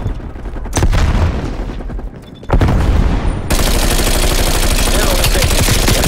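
Call of Duty Cold War multiplayer match with a grenade blast and bursts of gunfire, loud and close booms followed by dense continuous shooting and rumble, no clear talk.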